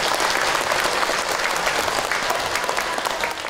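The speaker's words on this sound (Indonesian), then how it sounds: "Tepuk tangan dong buat ibu." A studio audience at an Islamic preaching broadcast claps in a loud, dense, even wash of applause that holds steady throughout and eases slightly at the end.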